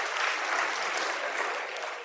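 A live podcast audience applauds steadily, dense clapping filling the room at an even level from start to finish.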